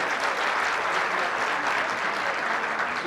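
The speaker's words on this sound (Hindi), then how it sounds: "सारे लोग जोरदार तालियों से हमारे अतिथि का स्वागत करें।" Steady, dense applause from a large crowd at a university convocation, loud and continuous throughout with no pauses.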